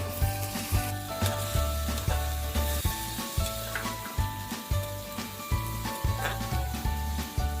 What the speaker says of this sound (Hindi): इन्हें पूरा गोल्डन नहीं करना है, बस हल्का सा तल जाए।